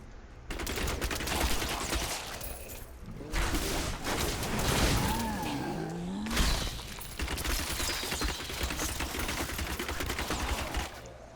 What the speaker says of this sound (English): rapid fire is really great for these long duration bursts